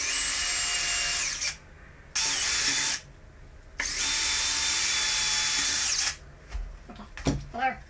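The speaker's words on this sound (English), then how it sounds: "Now of course, I'll do my pre-drilling." A power drill pre-drills holes in a bathroom cabinet: three loud, close whirring bursts of one to two seconds each with short pauses between, ending in faint clicks and handling noises.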